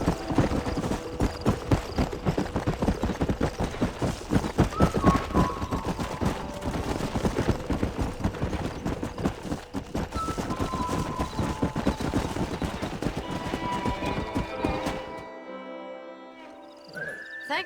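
Horse hooves clip-clop in a steady, rapid rhythm, close and loud, in the Western video game Red Dead Redemption, then stop abruptly near the end, leaving brief quiet.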